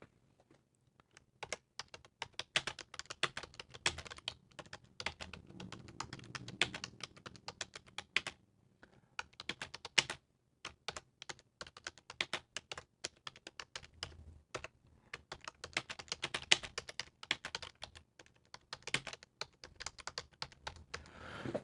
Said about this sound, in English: I'm just going to type in a couple sentences here